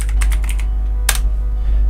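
Short bursts of keystrokes on a computer keyboard as a command is typed into Rhino 3D modeling software, a quick cluster of clicks followed by a pause and one final louder key press, close and alone over a low steady hum.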